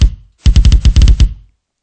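A kick drum played with the heel-toe pedal technique fires a tight burst of double strokes, about a dozen close, punchy low thuds in quick succession, loud and alone after a brief ringing hit.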